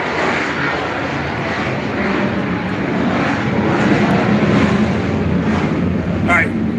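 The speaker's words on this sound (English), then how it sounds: "god damn it, fighter jets." Fighter jets flying overhead, a loud, broad continuous roar that fills the whole stretch, with a person talking beneath it.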